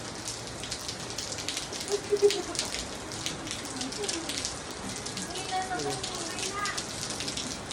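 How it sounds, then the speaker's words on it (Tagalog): Steady rain falling and pattering on surfaces while riders head home on a motorcycle, a continuous hiss with scattered drips, with faint voices underneath. "nung kami ay pauwi ng bahay, inabot kami ng ulan"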